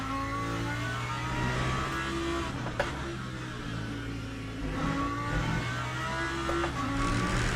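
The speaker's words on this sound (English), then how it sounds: "The gearbox whine, isn't it? It's the whine." A racing car engine in the video game Le Mans Ultimate drones with a high, steady gearbox whine rising and falling as it accelerates, continuous and fairly close, with no speech.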